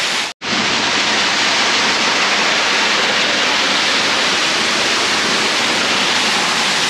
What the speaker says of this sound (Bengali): আমি ঝর্ণার একদম কাছে আছি একদম কাছে দেখো